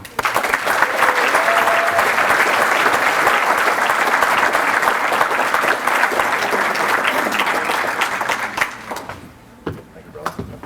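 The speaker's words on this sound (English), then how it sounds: "let's get a nice long round of applause for Chuck Burt" A long, loud round of applause from the crowd at the 2018 WHS Athletic Hall of Fame for inductee Chuck Burt, sustained for about nine seconds before tapering off into a few scattered claps.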